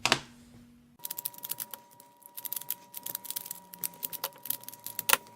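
Quick plastic clicks and clacks of a Pyraminx puzzle being turned, irregular bursts of rapid clicking, close and fairly quiet.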